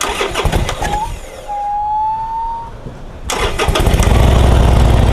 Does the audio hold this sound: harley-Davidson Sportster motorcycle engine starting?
yes